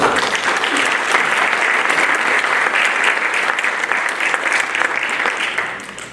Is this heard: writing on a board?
no